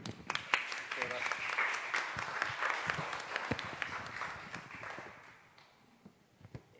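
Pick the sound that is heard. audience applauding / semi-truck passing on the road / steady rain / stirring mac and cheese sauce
audience applauding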